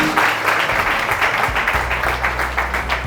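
Audience applause during an entrepreneurship training session, a steady, fairly loud patter of many hands clapping throughout, with a low hum and faint voices beneath.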